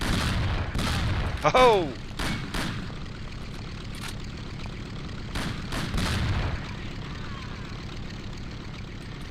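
A sawed-off shotgun fires in the 2002 video game Mafia, giving several sharp booming blasts spread over the scene. A man exclaims briefly as the shots ring out.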